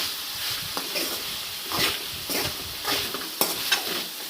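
Chopped tomato fries in hot oil for a mutton curry, a steady close sizzle broken by the clicks and scrapes of a spoon stirring the pan.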